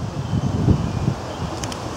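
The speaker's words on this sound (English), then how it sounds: "And it's cool today, windy and cool." Cool, gusty wind outdoors at a building site, a steady low rumble of air buffeting the microphone with a slightly stronger gust near the start and a faint rustle throughout.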